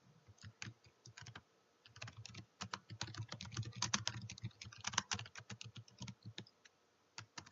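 Close, quiet typing on a computer keyboard while entering text in Photoshop: dense, quick key clicks in bursts with short pauses between them.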